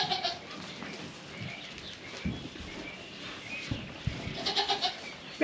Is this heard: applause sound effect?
no